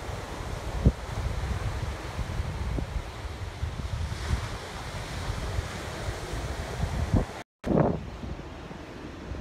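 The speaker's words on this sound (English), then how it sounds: "It's a windy morning." Wind buffets the microphone over steady ocean surf on a breezy shore at sunrise, a continuous broadband roar with a few soft thumps and a brief dropout near the end.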